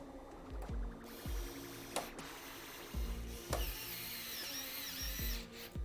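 A screwdriver drives small screws into a Corsair 5000T PC case, giving repeated short ratcheting bursts with clicks and metallic rattles at close range, with no talk.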